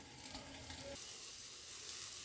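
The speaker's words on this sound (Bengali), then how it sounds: "বেগুনগুলো ভাজা হয়ে গেছে" Brinjal frying in oil in a wok gives a soft, steady sizzle with a muffled shift partway through, quiet and close, with no talking.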